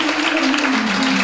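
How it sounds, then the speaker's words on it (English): Church congregation clapping during a praise service, a brief dense burst of hands with a sustained low musical tone underneath. "Come on, clap."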